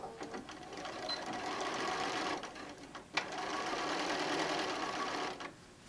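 A sewing machine stitching across a fabric wine bottle bag, running in two steady bursts of rapid whirring with a brief pause and click between them, close and alone.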